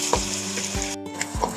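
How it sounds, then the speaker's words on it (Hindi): Chopped onion sizzles in hot oil in a pan, a steady close frying crackle with a few sharper pops and stirring scrapes. "ये देखिए प्याज मेरा फ्राई हो रहा है।"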